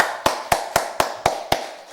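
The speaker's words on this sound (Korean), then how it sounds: "우리 하나님께 먼저 영광의 박수" A church congregation claps together in a steady rhythm, six sharp, evenly spaced claps about a quarter second apart, loud and crisp with brief silences between them.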